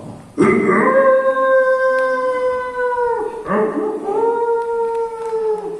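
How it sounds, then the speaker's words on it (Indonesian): A loud, sustained howl rises and holds, breaks briefly, then a second long howl follows, close and clear with no talking. "Itu suara serigala, adine Sri Wahyuni."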